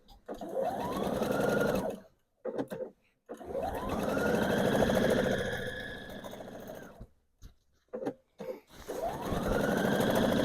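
Sewing machine running a seam on a scrappy strip quilt top, three whirring bursts that speed up and slow down, separated by silent gaps, close and moderately loud.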